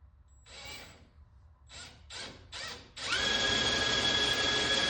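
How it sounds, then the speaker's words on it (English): A Flex drill driver bores the first marked hole: a few short trigger bursts, then a steady, loud whirring drill run with a whining tone, close by and without talk. "the drill driver head on it. And we're gonna get this first hole done"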